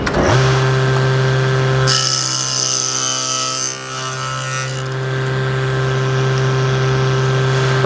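A spinning stack of dado blades hums steadily, then bites into a wooden mantel for a loud, rough cut lasting a few seconds before settling back to the machine's whine.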